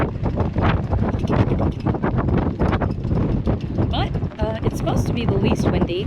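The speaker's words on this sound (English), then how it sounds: "It's a bit windy, as you can see." Heavy wind buffets the microphone aboard a sailboat heading to La Paz, a continuous loud roaring rush with gusty swells and faint voices underneath.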